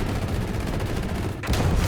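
Gunfire hitting a ZSU anti-aircraft vehicle in War Thunder, a dense, continuous rattle of shots with heavy rumbling underneath, cut by a brief gap and then a louder burst.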